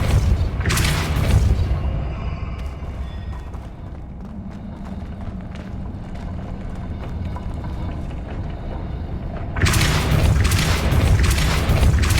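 Heavy booming blasts from the Depulso spell in Hogwarts Legacy, a loud burst at the start and another near the end, with a rumbling low wash sustained between them.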